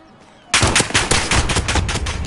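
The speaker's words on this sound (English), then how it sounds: "Gunfire." Rapid bursts of video game gunfire erupt after a brief quiet moment, loud and close, with repeated sharp shots rattling in a fast irregular rhythm.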